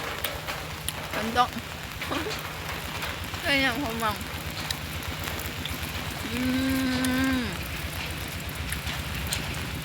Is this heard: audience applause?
no